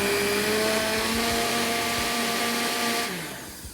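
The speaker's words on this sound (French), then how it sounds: "Et on va mixer." A blender whirs steadily as it purées a spiced chestnut cream soup with mushrooms, holding a loud, even motor drone for about three seconds before winding down.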